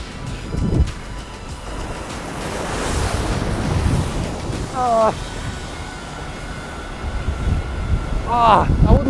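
Ocean waves crash against rocks near a sea tunnel, with a continuous loud surf roar and heavy wind buffeting the microphone, swelling near the end, while voices briefly exclaim over it.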